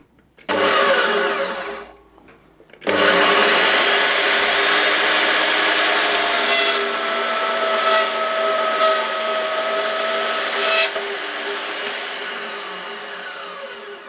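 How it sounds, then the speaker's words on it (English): An Aldi portable metal-cutting bandsaw on a vertical stand cuts thin extruded aluminium: the motor starts up, drops briefly, then whines steadily and loudly through the cut before easing slightly. "Right, let's see it in action. Okay, this is a bit of extruded aluminium, about millimetre thick."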